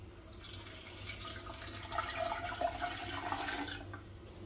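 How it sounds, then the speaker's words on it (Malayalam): Water being poured over mangoes for a traditional salt pickle, a steady trickling splash running for several seconds, moderately close and fairly quiet, with no voices. "അപ്പൊ വെള്ളം ഒഴിച്ചു കൊടുക്കട്ടെ."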